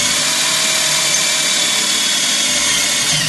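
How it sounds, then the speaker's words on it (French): A power drill with a wood bit bores into timber while a dry toilet is being built, giving a loud, steady whirring grind that runs unbroken for a few seconds. "je vais percer avec une mèche à bois"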